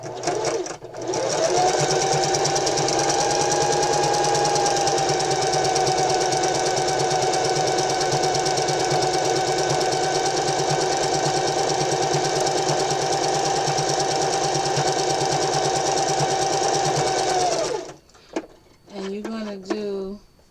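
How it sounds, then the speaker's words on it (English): A sewing machine runs a straight stitch at stitch length 2 with a walking foot, a steady loud motor whir holding for about sixteen seconds before stopping, followed by brief talking. "And I'm going to use a straight stitch. Stitch length is 2."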